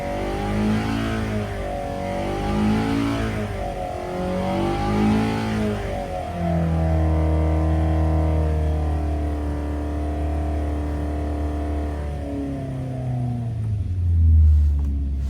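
A Carter 998 engine on a dyno, built for Brisca F1, revs in loud rising and falling sweeps, then holds a steady heavy drone that tops out early, close and continuous.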